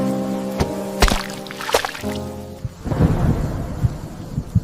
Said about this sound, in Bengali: গভীর রাতে বনের মধ্যে হঠাৎ প্রচণ্ড ঝড় বৃষ্টি শুরু হয়।